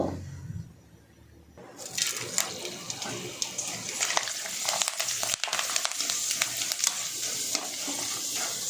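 Dried cluster bean sandige drops into hot oil for deep frying: after a quiet moment, a loud, dense sizzle bursts up and keeps crackling and bubbling steadily to the end.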